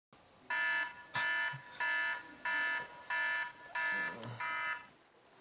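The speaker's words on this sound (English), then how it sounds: "stop snoozing that alarm." An alarm clock goes off with seven evenly spaced, loud electronic beeping bursts in a steady rhythm, each lasting about half a second, with no talking.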